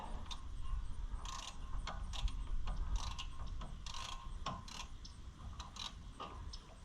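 A ratchet wrench works on a 2016 Super Duty truck wheel bearing, giving quiet rapid clicking in short bursts with irregular pauses and faint metallic rattles.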